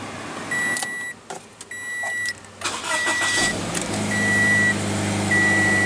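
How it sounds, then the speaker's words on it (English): A 2016 Scion FR-S's 2-liter horizontally opposed four-cylinder engine idles and revs steadily, mixed with electric window motors and repeated short chime beeps; no one speaks. "what you're hearing there is a 2-liter horizontally opposed 4-cylinder engine"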